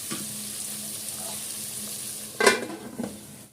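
Potatoes fry in oil in a covered pan, a steady soft sizzle running throughout with a louder clatter and burst of hiss near the end.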